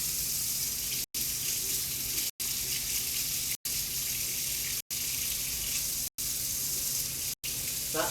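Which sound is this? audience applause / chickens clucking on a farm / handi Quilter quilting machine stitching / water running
water running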